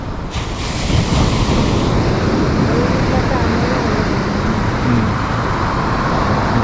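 Loud ocean waves surge and wash continuously at Torrey Pines beach in La Jolla, mixed with heavy wind buffeting the microphone.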